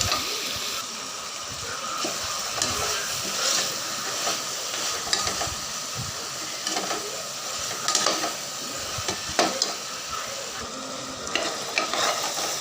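Chicken is turned and stirred through masala gravy in a pressure cooker for chicken biryani, with continuous scraping and a soft sizzling hiss throughout, steady and close, with no voices.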